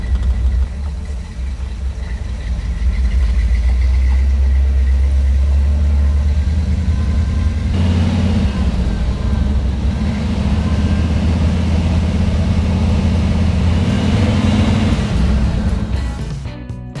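A car engine idling steadily and loud after a carburetor rebuild, timing adjustment and new intake manifold, a continuous low rumble with a slight rise in revs partway through, no talk.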